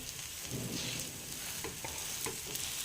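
Bajra (millet) flour thalipeeth roasting in a pan: a steady, close sizzling hiss fills the whole stretch, with a few soft scrapes and taps on top and no talking.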